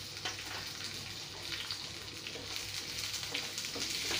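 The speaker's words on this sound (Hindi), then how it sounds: "और अभी डाल दूंगी उसमें रफली चॉप प्याज," Roughly chopped onion frying with whole spices such as cinnamon, cardamom, cloves, black pepper and bay leaves, a dense continuous sizzle close by with faint stirring underneath.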